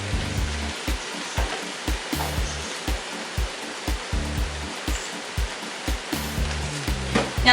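Full frying pan of vegetables sizzling steadily at close range, a dense hiss with repeated short knocks and clatters from stirring, no talk over it.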